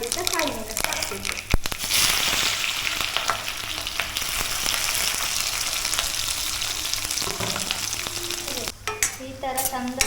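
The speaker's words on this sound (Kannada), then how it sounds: "ಈ ಥರ ಚಂದ ತುಪ್ಪದಲ್ಲಿ ಫ್ರೈ ಆಗಬೇಕು." Chopped onions and green chilies for a Mangalore hotel-style squid sukka sizzle loudly in ghee in a pan, a steady dense frying hiss running throughout with occasional stirring clatter and a voice talking over it.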